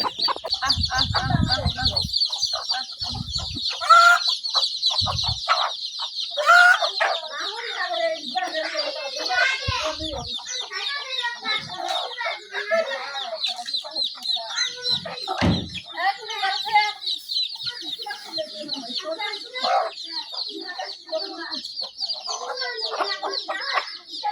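Hens on a small poultry farm where chicks have just hatched cluck and chatter continuously nearby for a long stretch, with a bright, high chirping backdrop and someone talking at times over the birds.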